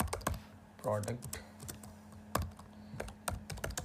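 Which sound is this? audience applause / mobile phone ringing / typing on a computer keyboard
typing on a computer keyboard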